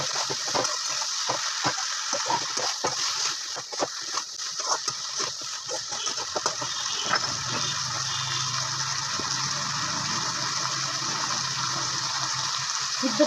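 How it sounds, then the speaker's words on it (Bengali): Water is poured into a cooking pan of potatoes, cumin, garlic and dried chilli paste for a data chorchori, starting with sputtering splashes and settling into a steady bubbling hiss. "সিদ্ধ হওয়ার জন্য সামান্য পরিমাণে জল দিয়ে দিলাম।"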